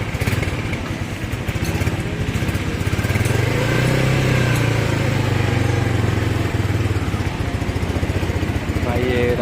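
A motorcycle engine idles loudly and steadily at night on a Bahria Town Karachi road, its throttle rising briefly in the middle as the rider sets off, with people talking over it.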